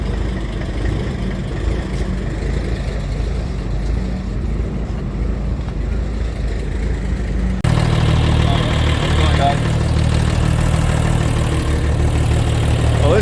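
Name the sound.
truck diesel engine idling after being started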